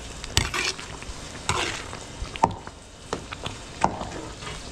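Laing sizzles and crackles as it fries in a pan in a restaurant kitchen, with irregular pops and a spatula scraping and stirring at close range.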